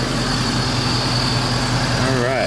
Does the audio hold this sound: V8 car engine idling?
yes